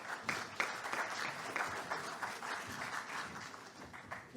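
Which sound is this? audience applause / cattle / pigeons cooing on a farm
audience applause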